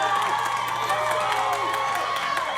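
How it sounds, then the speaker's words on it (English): Wrestling crowd cheering and shouting around a steel cage match in the ring, a loud continuous roar with scattered whoops and shrill voices sustained throughout. "This crowd coming alive"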